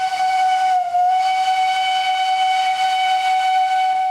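A steam train whistle blows loud and sustained for several seconds, a bright multi-tone shriek with a brief dip in pitch near the start.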